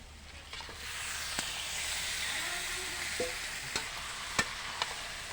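Chicken pieces sizzle steadily in a pan for a Bengali yogurt chicken kosha, with a few sharp scrapes and taps of a spoon stirring them throughout.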